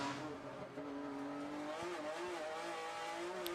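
An HKS Nissan Skyline R32 race car that competed in an Australian series accelerates hard, its engine note rising and shifting in a steady, continuous roar at moderate distance.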